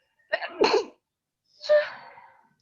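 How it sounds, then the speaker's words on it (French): Two sneezes in quick succession, close and fairly loud, the first with a short sharp intake before the burst, the second slightly breathier. "semble gênée par la poussière des lieux et éternue"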